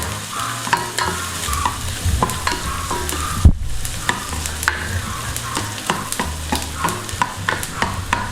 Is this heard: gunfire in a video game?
no